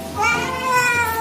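A neighbour's cat meows insistently for food at close range, a drawn-out whiny call lasting about a second, with no talk over it.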